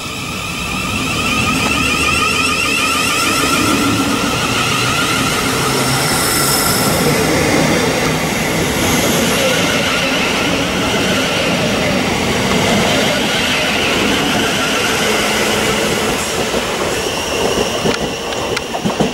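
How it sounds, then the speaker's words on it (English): A Thameslink Class 700 electric train departs Preston Park Station, rising into a loud, close rumble of wheels on rail with rhythmic clicks over joints and faint squealing as the carriages roll past. "Seven 700's departing Preston Park Station."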